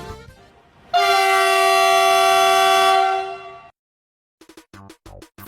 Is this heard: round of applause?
no